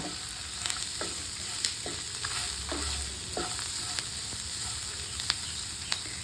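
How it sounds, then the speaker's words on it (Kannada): Onions for a chutney frying and hissing in a pan, with a steady sizzle broken by repeated clinks and scrapes as a spoon stirs them, close and fairly quiet. "ನಾನು ಇದನ್ನು ಮತ್ತೆ ಒಂದು ಎರಡು ನಿಮಿಷ ನಾನು ಫ್ರೈ ಮಾಡ್ಕೊಳ್ತಾ ಇದ್ದೀನಿ"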